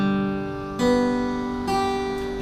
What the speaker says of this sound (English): So if you were to pick individual strings, it would sound like this.